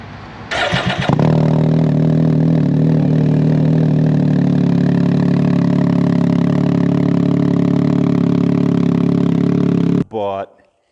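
Can-Am Ryker three-wheeler engine through a loud twin-pipe RLS exhaust, starting with a sharp burst then settling into a steady deep idle rumble before cutting off with a brief final blip.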